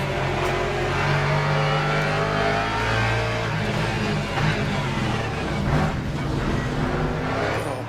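Race cars in the sim Le Mans Ultimate, Porsche among them, roar past in a steady, close engine drone with rising and falling revs and no pauses throughout.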